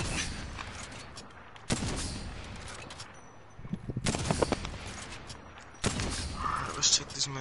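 Video-game gunfire in a 1v1 match: several sharp bursts of shots crack out at intervals, loud against a quiet background.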